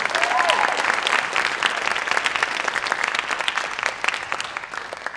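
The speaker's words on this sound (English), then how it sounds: "Let's give them all a round of applause." An audience at a high school drama awards evening breaks into sustained applause, dense clapping filling the room and slowly thinning out toward the end.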